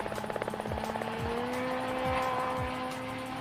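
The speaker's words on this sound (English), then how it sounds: "You can hear the roar of the Polaris." A Polaris rally car roars along a rally stage, its engine note rising and holding strong, with a few sharp bursts as it goes, loud and close, then pulling away.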